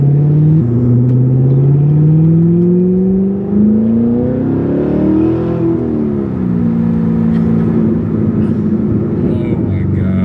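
A Corvette C7 Grand Sport exhaust burbles and revs loudly up close, its deep engine tone rising and falling with throttle changes while people talk over it.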